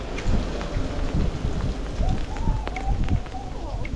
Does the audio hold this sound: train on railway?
no